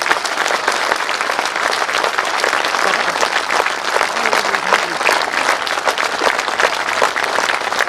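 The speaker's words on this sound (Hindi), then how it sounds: "मैं चाहता हूं कि ये तालियां रुकनी नहीं चाहिए" Audience applause at a festival speech, dense sustained clapping from a large crowd that fills the space evenly and loudly for eight seconds without letting up.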